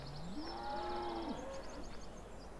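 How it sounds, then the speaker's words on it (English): A calf in the farming game Farming Simulator 2017 gives one drawn-out moo that rises and then falls, clear and fairly close over a steady low background hum. "Ah, a baby cow. Well, a calf."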